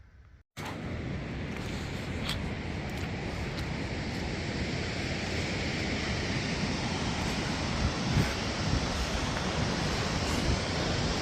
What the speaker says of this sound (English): Check out that waterfall down there.